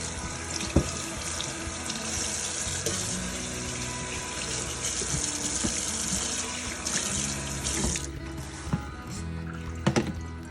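Greens are washed under a running kitchen sink tap: a steady, close rush of water with occasional clunks and knocks of handling.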